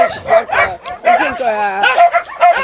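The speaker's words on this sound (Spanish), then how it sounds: "Ven por acá para que enfoques a los perros." Numerous dogs bark and yelp close at hand in choppy, overlapping bursts, with one drawn-out howling whine in the middle, loud throughout.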